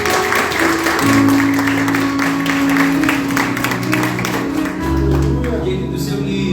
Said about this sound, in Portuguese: Se você quiser e puder, aplaudir mais uma vez a Jesus.